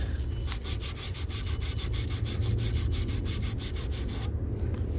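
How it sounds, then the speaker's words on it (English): A pipe is sanded clean before a 1/2-inch hose bib is fitted. Quick, even back-and-forth rasping strokes repeat steadily, close up and moderately quiet, with no talking. "Make sure the pipe is clean, sanded."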